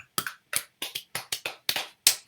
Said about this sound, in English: I can clap with the back of my hand